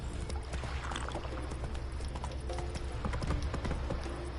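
Horse hooves clip-clop in a quick, steady rhythm as a rider gallops along in The Witcher 3, close and continuous over a low ambient bed.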